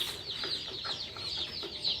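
High, thin peeping from a group of chicks in a poultry barn, chirps overlapping in quick, uneven bursts at close range with no talking.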